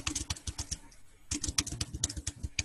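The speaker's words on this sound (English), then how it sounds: "Somebody's typing." Quick clatter of computer keyboard typing picked up over an online call, bursts of close keystrokes in an uneven rhythm with a brief pause in the middle, a faint voice briefly underneath.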